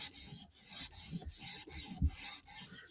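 Knife blade drawn across a 400 grit stone, a series of short rasping strokes in a steady back-and-forth rhythm, close and moderately quiet, with no talking.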